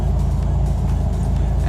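A neighbor's truck idles close by with a steady, heavy low-end engine rumble. It pulls up at a constant level with no other sounds over it.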